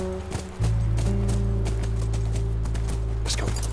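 A horse clip-clops along in The Last of Us Remastered video game: a steady low engine-like drone starts abruptly, with rhythmic hoof thuds layered on top and a few brighter clacks near the end.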